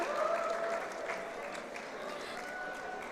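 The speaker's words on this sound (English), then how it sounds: "Let's give him a huge round of applause," An audience at a WordPress community conference in Nepal applauds continuously, a dense wash of clapping that starts strongest and settles into a steady, even patter, with a voice faintly audible.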